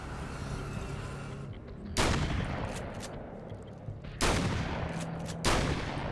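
Shotgun blasts in the video game Alan Wake's American Nightmare: three loud broadband booms spaced a couple of seconds apart, each with a sharp attack and a lingering tail over a steady low game ambience, no talk.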